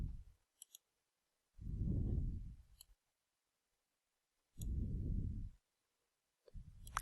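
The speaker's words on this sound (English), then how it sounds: "Clicking on the three dots button." A computer mouse clicks a few times, faint and sparse, while someone works through photo layout software. Low thumping bursts of handling noise fill the gaps between clicks.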